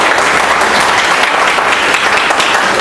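Dense, continuous applause from an audience at a business training session, loud and sustained throughout without any talk over it.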